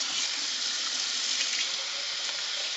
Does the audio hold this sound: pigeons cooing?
no